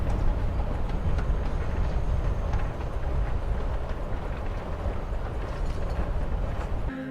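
A train in the Life is Strange: Before the Storm video game rolls steadily along rails, a continuous loud low rumble with faint rattling throughout and no break.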